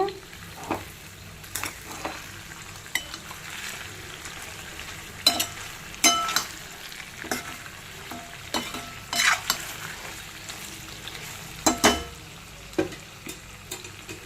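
Andhra chicken pieces fry with masala in a low, crackling sizzle near the mic, broken by irregular scrapes and knocks as the pan is stirred.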